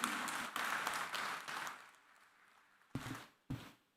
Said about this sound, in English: A big round of applause for Team JN Port.